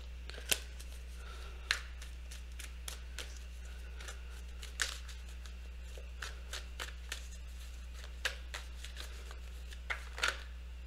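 Tarot oracle cards being shuffled thoroughly by hand, a steady papery riffling broken by sharper snaps and taps at irregular moments, close and clear over a low steady hum, with no talking.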